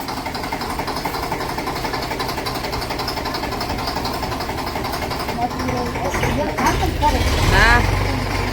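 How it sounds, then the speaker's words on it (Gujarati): A tractor engine runs steadily on a farm where cows and calves are kept, a continuous mid-level drone that swells slightly near the end, with voices talking over it. "હાલો હવે ટ્રેક્ટર મૂકી દો અંદર"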